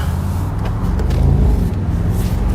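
A Mercedes SL 63 AMG 4MATIC+ roadster engine rumbles steadily at cruising pace with the top down, low and throaty, with passing road and wind noise around it.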